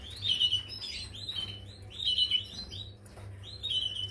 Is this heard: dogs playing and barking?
no